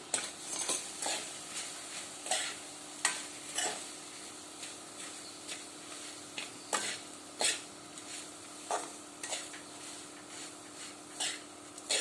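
A spoon scraping and stirring a bitter gourd, garlic and chili mixture in a pan, giving regular, evenly spaced strokes against the metal over a faint sizzle, close and unaccompanied by speech.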